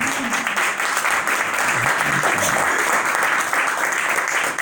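Church congregation applauding during an Easter resurrection sermon, a sustained wash of clapping at even loudness from start to end, with some faint voices underneath.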